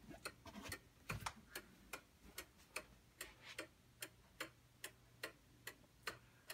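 An antique 1700s Black Forest twin glass bell clock ticking steadily and close, with evenly spaced crisp ticks and tocks alone in a quiet room.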